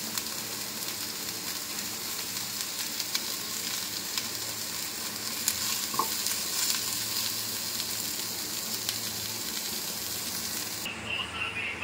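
Potato, carrot, egg and boiled chow noodles frying in a home kitchen pan, a constant loud sizzle with occasional stirring scrapes, close and unbroken for about twelve seconds, with no one speaking over it.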